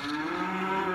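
A cow in a farm barn gives one sustained, close moo with a strong tonal drone lasting the full second, heard alone without talk.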